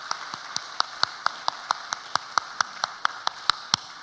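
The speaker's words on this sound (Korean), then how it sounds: "우리 박수로 한번 축복하도록 하겠습니다" Slow, rhythmic clapping from a church congregation, evenly spaced claps repeating about four times a second with a few hands together, no talking.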